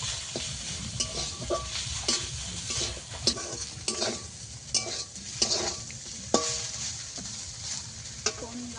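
Drumstick greens with prawns being stirred and fried in a pan: a steady sizzle runs throughout, broken by frequent scraping strokes and occasional sharper clinks of the utensil against the pan.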